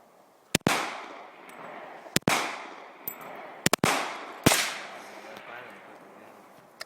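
Four sharp, loud gunshots from a Springfield XDM 4.5 pistol in .40 S&W, some in quick pairs, each cracking close by and ringing out with a decaying echo between shots.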